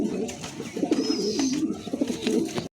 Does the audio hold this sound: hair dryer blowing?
no